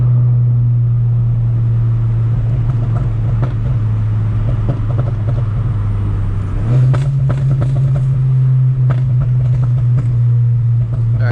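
A tuned manual VW Mk8 GTI, Stage 2 on E85, pulls hard in second gear. Its engine drones loudly and steadily from inside the car, and the pitch steps up partway through.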